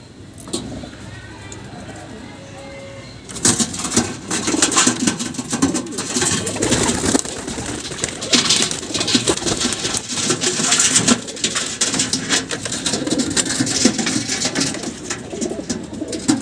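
A brown male pigeon, guarding its mate from other pigeons, coos repeatedly and fairly close over a busy, noisy background, with a voice speaking.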